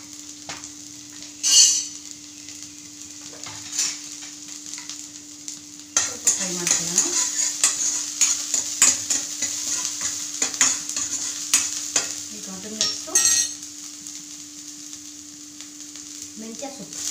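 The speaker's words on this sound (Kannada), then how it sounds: "ನೋಡಿ ಪ್ಯಾನಲ್ಲಿ 1 spoon ಅಷ್ಟು, ನೋಡಿ ಅಷ್ಟು ಆಯಿಲು. ಇವಾಗ ಅದಕ್ಕೆ ಆನಿಯನ್ಸು" Onions frying in a spoonful of oil in a pan, with a steady sizzle throughout, louder after a few seconds, broken by scraping stirs and light clinks of a utensil against the pan.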